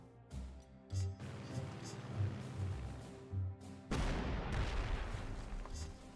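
Artillery fire in the strategy video game Panzer Corps 2, set in a Dunkirk campaign: a few heavy booming shots with rumbling decay, the last and loudest blast leaving a long noisy tail, with no voices.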